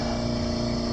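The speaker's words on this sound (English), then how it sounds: "pardon the compressor noise" An air compressor running in a garage during brake caliper prep and painting on a Galant VR4, a steady, loud mechanical drone with a constant hum and no pauses.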